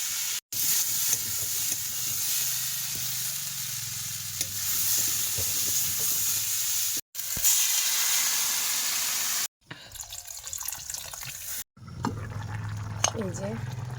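Pumpkin pieces frying in oil in a home kitchen, a steady sizzle with stirring scrapes running throughout, cut by brief silent gaps, while a person talks over it.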